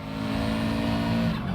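A Subaru WRX race car engine drones steadily at high revs during a Gran Turismo Sport online race, held at a constant pitch for a moment with no talk.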